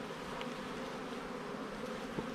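Honey bees buzz in a dense, steady swarm drone as they are shaken off a hive frame during a queen replacement, with a close, continuous hum, a few faint knocks, and no voices.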